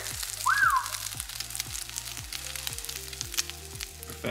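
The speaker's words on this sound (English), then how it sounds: "Now we're gonna flip it and cook this side because this side is raw." A veggie omelette sizzles steadily in a frying pan just after being flipped, a continuous close crackle with a brief higher squeak early on and no talk.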